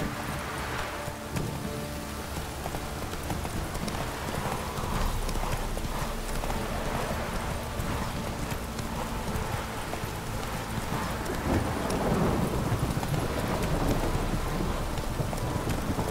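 A horse galloping in the video game The Witcher 3, with steady rapid hoofbeats over a rainy, stormy backdrop that stays continuous and fairly loud throughout.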